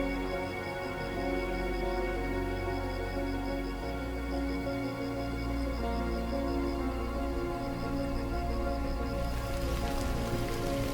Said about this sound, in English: Rains begin to fall more frequently, heralding the end of the warm months.